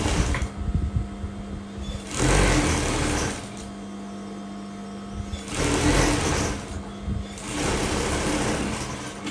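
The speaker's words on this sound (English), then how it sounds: "I'm placing this way, front to front, and I'll just run a stitch on it." Sewing machine running bursts of stitching as a suit sleeve lining is joined front to front with the fabric, three loud runs separated by quieter pauses with a steady motor hum.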